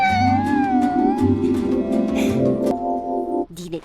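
A cat meows in the video game Monster Taming Star Dive with drawn-out, wavering cries over a layered backdrop of game music and effects.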